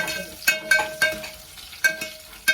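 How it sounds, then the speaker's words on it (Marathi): Onion frying in a pan for browning, a soft sizzle broken by several distinct clinking stirs of a utensil against the pan at irregular intervals, heard close with no talking. "ह्याला चांगला ब्राऊन करून घेणार आहे मी कांदा"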